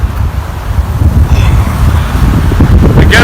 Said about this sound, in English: I hope when I get into the forest there will be no wind